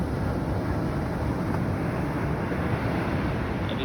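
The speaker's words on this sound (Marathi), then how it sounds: "और एक आई लहर।" Sea waves wash onto a beach shore in a steady, broad roar, close and continuous, with wind buffeting the microphone and no voices.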